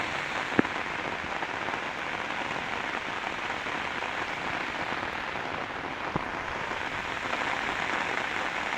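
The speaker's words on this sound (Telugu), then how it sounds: "ఆ వర్షం శబ్దం డిఫరెంట్ ఉంటుంది కదా" Steady heavy rain pouring down in Kadthal, a dense even hiss of drops striking surfaces, with a couple of faint clicks; no voices.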